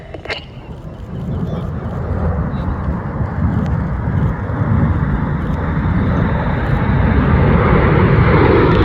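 RAF Red Arrows jets roaring over an air show in Big Vixen formation, a broad rushing engine noise swelling and holding loud, with faint buffeting from wind.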